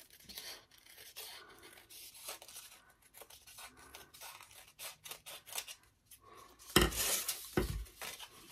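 Scissors snip through paper for a handmade paper bird of paradise flower. The cuts are quiet and scattered at first, then a louder cluster of crisp close-up snips arrives near the end, with no talking.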